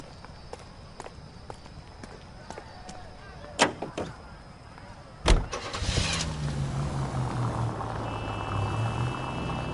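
A Nash car in the L.A. Noire video game starts up after footsteps and a door thump, then its engine settles into a steady low running drone, moderately loud and close, with no talk over it.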